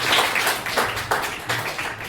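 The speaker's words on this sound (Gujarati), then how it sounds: "તો એમને આપણે તાળીઓથી વધાવીશું" Applause greets a guest arriving at an organisation's 81st founding day celebration, a brief burst of clapping from a gathered audience, fairly close and steady without talk.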